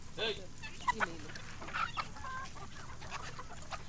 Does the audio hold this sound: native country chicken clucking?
yes